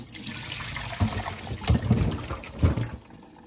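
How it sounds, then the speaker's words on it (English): Water draining from a pot of boiled potatoes, with splashing pours and gurgling bursts coming in uneven waves, close by. "so I'm going to drain these and let it cool for 5 minutes"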